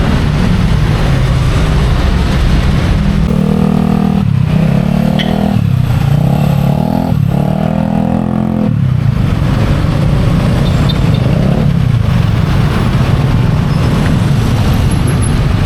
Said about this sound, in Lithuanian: Gerai, kad su motoroleriu bent kamščiuose nereiks stovėti.